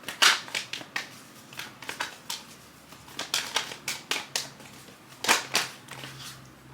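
Tarot cards shuffled and drawn during a reading: a run of crisp, papery flicks and snaps, close and fairly soft, clustered in bursts with short pauses, no voice over them.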